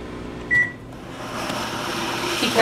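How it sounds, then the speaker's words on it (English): Microwave oven humming while heating a bar of Ivory soap, a short beep near the start followed by a steady close drone of the running appliance. "Other soaps tend to melt when microwaved."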